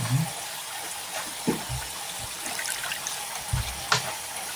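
Chonggak radishes are rinsed under a running kitchen tap, making a continuous, close stream of flowing water with irregular splashes and soft handling thumps, and no one speaks.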